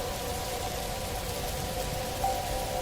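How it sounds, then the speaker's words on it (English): Steady, soft rainfall patters continuously at a moderate distance, an even hiss with no voices. "The rain showed no sign of stopping."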